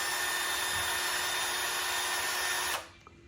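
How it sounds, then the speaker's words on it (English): A power drill spinning a soft polishing pad for headlight restoration whirs at a steady high pitch, then abruptly stops, leaving a quiet room. "Here is the polishing tool that attaches to your drill"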